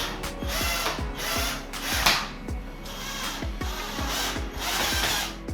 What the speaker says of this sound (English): I then used a Phillips screwdriver drill bit to fasten the steel angle bracket